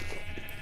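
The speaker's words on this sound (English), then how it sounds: "Look at all the sheep we have" Sheep bleating in the Minecraft video game, a short, steady call under soft ambient game sound.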